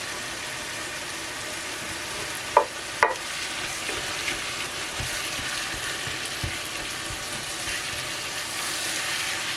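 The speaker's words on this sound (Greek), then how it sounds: "Θα σοτάρουμε όλα μαζί και σπάμε όσο μπορούμε περισσότερο το κιμά σε μικρά κομμάτια." Half a kilo of minced beef sautéing in a pan, a soft steady sizzle with a couple of sharp clacks of a utensil stirring and breaking it up, close and without talk.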